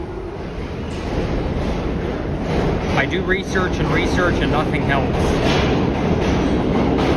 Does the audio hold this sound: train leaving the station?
yes